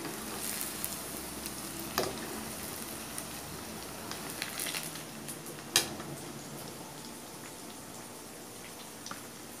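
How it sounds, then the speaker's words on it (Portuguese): Plantain medallions sizzling in hot oil, a steady faint crackle with scattered sharper pops close by and no talking. "Tô fritando, que delícia."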